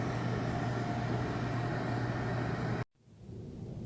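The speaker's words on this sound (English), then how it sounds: "And I'll see you when the microwave's done." A microwave oven heating homemade apple cider gives off a steady, even hum that stops abruptly near the end, leaving a quiet room.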